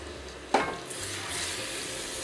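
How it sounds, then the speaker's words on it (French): Beef stock and roast juices hit a hot pan during a lamb rogan josh, starting with a sudden splash and loud hiss that settles into a steady, moderate sizzle. "Je vais ajouter le bouillon de bœuf et le jus de rôti."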